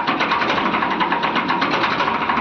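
A Farmtrac tractor with power steering runs its engine at high revs, a steady, close, loud drone with a fast rhythmic pulsing and no breaks or voices.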